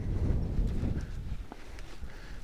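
A horse being schooled in a snaffle bit steps its front end around its hindquarters in a turn, with soft, dull hoof thuds and shuffling on dirt close by, continuous and low, with no talk.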